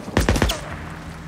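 A big gun in the video game Days Gone fires four heavy, booming shots in quick succession, loud and close, followed by a fading rumble.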